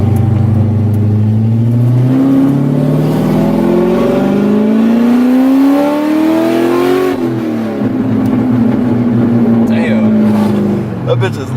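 Loud C6 Corvette with an LS3 V8 revving hard, its engine note sweeping upward over several seconds, dropping sharply, then holding a steady high rev close by; no talking.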